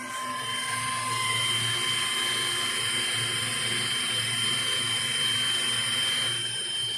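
A machine slowly cuts a Dodge 300C exhaust manifold, producing a steady, high-pitched whine with a faint low hum underneath. The sound is moderately quiet and continuous, with no speech.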